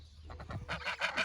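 Farm geese honk in a paddock: a quick run of loud, nasal honks close by, overlapping in a short burst.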